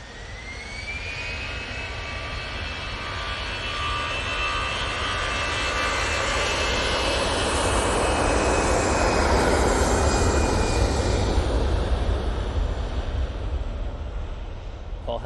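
A Manchester Airport Easyjet jet rolls down the runway on its takeoff run to Geneva, a loud, steadily building engine roar with a rising whine that swells and holds close by.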